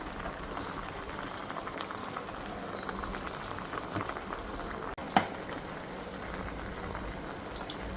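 A pot of liquid boiling steadily at close range, with continuous bubbling and patter and a single brief knock partway through, with no speech.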